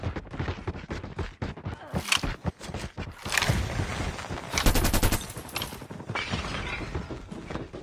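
Krig 6 rifle fire in Call of Duty Mobile during a hardcore Hardpoint match: loud, rapid bursts of automatic gunfire with sharp cracks and crunchy impacts, dense and continuous with brief pauses between volleys.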